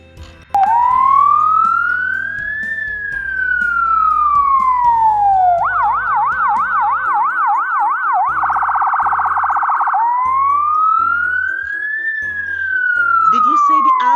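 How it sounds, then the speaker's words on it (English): A loud emergency siren cycles through slow rising and falling wails, then switches to rapid yelping and warbling tones before returning to the wail. "Yes, that sound comes from the ambulance."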